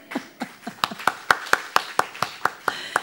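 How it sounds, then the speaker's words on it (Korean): A church congregation claps during a Sunday sermon at a fasting prayer house, giving about a dozen sharp, evenly spaced claps over three seconds. The claps are close and moderately loud, with faint voices beneath them. "박수"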